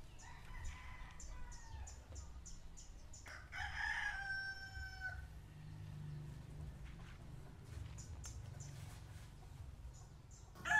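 A Gray-breed gamecock rooster crows in a full cock-a-doodle-doo at mid distance, with clucks and other fowl calls scattered around it and a low outdoor rumble underneath.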